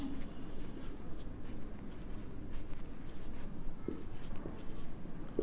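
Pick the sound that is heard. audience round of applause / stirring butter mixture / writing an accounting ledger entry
writing an accounting ledger entry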